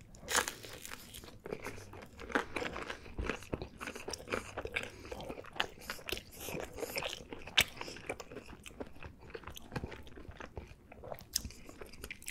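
Close, steady crunching and chewing of crisp food, with repeated bites and crackles throughout and no talking.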